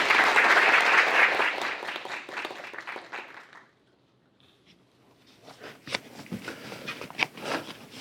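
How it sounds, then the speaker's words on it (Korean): Dense applause from an audience at an academic award ceremony, welcoming a university president to the stage; loud, sustained clapping for several seconds fades to near quiet, then scattered claps and rustling return. "유홍림 총장님을 큰 박수로 맞이해 주시기 바랍니다."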